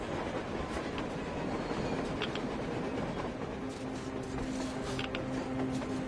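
Rumbling train in the post-apocalyptic game Metro Exodus, a continuous rolling clatter with metallic squeals and a low sustained tone, steady and fairly close.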